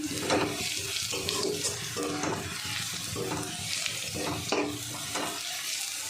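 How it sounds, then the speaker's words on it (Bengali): Garlic frying in a pan for a Bengali dish of water spinach with bata fish, a steady close sizzle with repeated stirring scrapes over the hiss, no voices. "দেখুন রসুনটা ভাজা হয়ে গেছে।"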